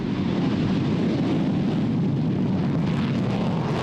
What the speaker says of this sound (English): Strapping yourself into the F-111, you can feel the historic place it has here. On takeoff, you understand why.